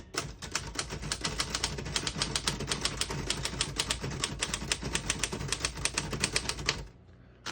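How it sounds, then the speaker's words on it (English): Rapid, steady clacking of a 1951 Royal KMG manual desktop typewriter's keys, close and continuous for several seconds, then stopping abruptly near the end. "I'm going to type a sentence on this next line in red"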